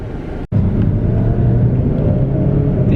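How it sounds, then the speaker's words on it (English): Inline-4 car engine with a steady, loud, low rumble. It cuts out for a split second early on, then carries on evenly with no talk over it. "The engine is a little noisy in a good way"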